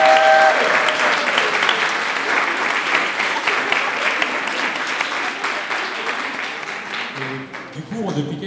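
Audience clapping and cheering for young performers at a live stage event, a loud, dense burst of applause that holds steady before tapering off, with a voice speaking near the end.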